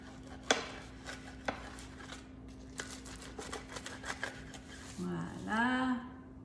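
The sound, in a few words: cutting a brunch dish in the middle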